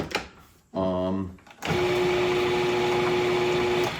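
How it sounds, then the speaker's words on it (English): A food processor pulses quick oats, its motor whirring up after a brief mechanical clunk and then holding a loud, steady grinding hum, with a voice heard briefly at the start. "I'm going to put that into a food processor. And I'm going to pulse it"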